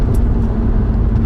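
A loud modified Infiniti G35 engine and exhaust rumble steadily and close, a deep continuous drone with a strong low hum and no talking.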